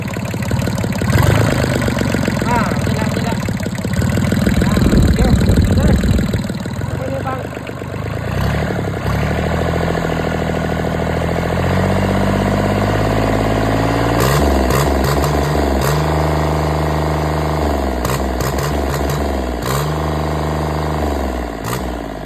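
A Yanmar 3TNE74 three-cylinder 21-horsepower diesel engine runs loudly and close, its steady rumble rising into a rev then settling back to a lumpy idle, with people talking over it.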